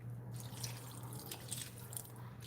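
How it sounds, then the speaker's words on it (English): Water poured into a pot of jollof rice near the end of cooking, a soft steady trickle and drip running continuously under a low hum, faint and close with no talking. "little bit of more water because it's not yet as soft as I want it to be"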